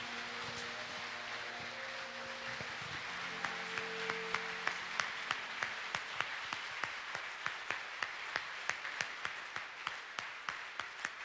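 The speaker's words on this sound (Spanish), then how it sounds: "Dale un fuerte aplauso al Señor" Church congregation applauding in gratitude during a worship service, a dense sustained wash of clapping with sharper individual claps standing out, moderately loud and continuous, with faint musical tones underneath early on.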